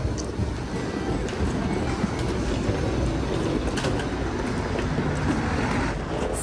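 Steady rumble of a train idling or rolling slowly at a station, with a broad low-frequency hum and faint clanks throughout, no clear voices.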